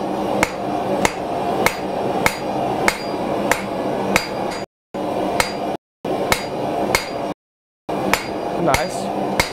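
A hand hammer forging a spear strikes hot metal in a steady run of sharp, ringing blows, loud and close, with no talking over them.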